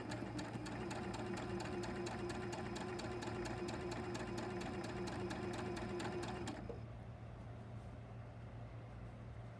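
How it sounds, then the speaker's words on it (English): A sewing machine stitches quilt fabric for nine-patch blocks with a rapid, steady mechanical whir and clatter, then slows and stops, leaving a faint hum. "And I'm gonna sew, and you don't need to back stitch here either."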